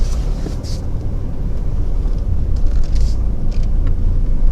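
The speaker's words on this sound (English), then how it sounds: "I'm driving and talking" Steady interior rumble of a moving car, a continuous low road and engine drone with no speech, holding even throughout.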